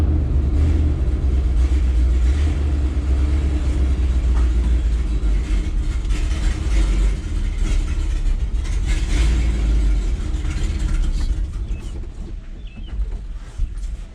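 A 1970 GMC truck engine runs with a deep, loud, rumbling idle, close by and continuous, easing off slightly near the end.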